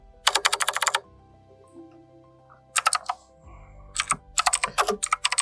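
Bursts of rapid clicking keystrokes on a computer keyboard come in three quick runs separated by short pauses, close and crisp over a faint background hum.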